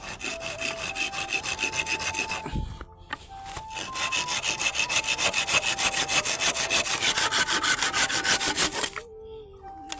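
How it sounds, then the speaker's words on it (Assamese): A hand saw cuts through a measured wooden post in steady, rapid back-and-forth strokes, loud and close, broken by a brief pause and a dull knock before the rhythmic rasping resumes. "বলক এতিয়া জোখ লৈ কটা ষ্টাৰ্ট কৰি দিওঁ"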